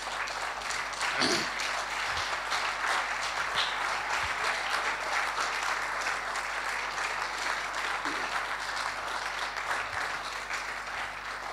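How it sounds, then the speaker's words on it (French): A standing audience applauds a team at a grand final, steady dense clapping sustained throughout at a constant loud level, with no pauses. "Donc vous vous levez, vous les applaudissez s'il vous plaît, ils le méritent."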